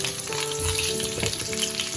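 Potatoes and pumpkin frying in a pan, a close sizzle with scraping and stirring movements and some tonal clinks running underneath.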